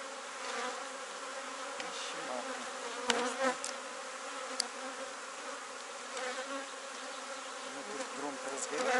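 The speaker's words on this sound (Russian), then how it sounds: "шумим, пчелы уже волнуются." Agitated honeybees swarm around an open hive while a colony is being split around an overwintered queen, making a continuous, dense buzzing with occasional sharp clicks and bumps near the hive, fairly soft overall.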